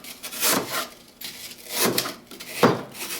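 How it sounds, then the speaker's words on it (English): A putty knife cuts and rubs through dried floral foam being squared and tapered to fit a container, producing close, soft scraping strokes in a slow, uneven rhythm with no voices. "will cut the foam in a square to fit the container and maybe taper it a little bit"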